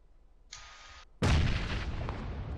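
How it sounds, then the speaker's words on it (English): A grenade exploding in the PUBG video game. A short, thin electronic tone is followed by one sudden, loud, close blast that decays into a rumbling tail. "Let me just throw a grenade there"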